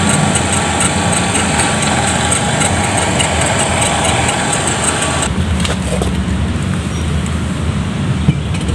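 A Shimizu electric water pump motor runs with no load after repair of a total failure, giving a steady continuous hum and whine, loud and close, that drops in brightness about two-thirds through but keeps going with no talk.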